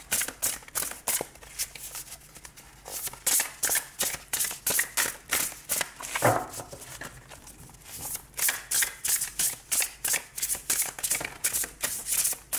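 Tarot cards shuffled for a reading, a steady run of crisp riffling bursts with a brief pause midway, close and fairly loud, with no speech.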